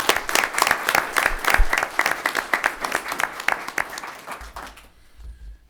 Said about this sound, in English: So in absentia, let's give a round of applause to Hannah Mock.